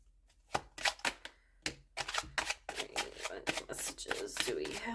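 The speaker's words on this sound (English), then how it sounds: "these cards are really big for my hand, so they're a little bit harder to shuffle." Large tarot cards being shuffled by hand in quick bursts of crisp riffling and slapping, close and fairly loud, with short pauses between shuffles and no talking.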